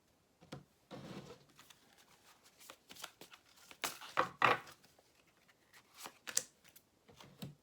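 Tarot cards are shuffled by hand at close range in soft, uneven bursts of riffling and sliding, quiet overall with brief pauses between handfuls.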